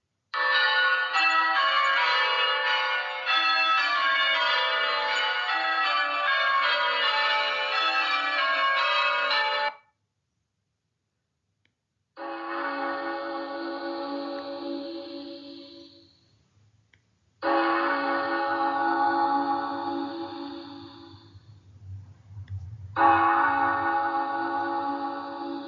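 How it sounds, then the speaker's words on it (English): Church bells ring out in joyful peals, a long, bright cascade of overlapping tones, then a break and several shorter bursts of ringing, loud and clear with no voices. "the first sound that you heard was the ringing of church bells, rung in joy or celebration"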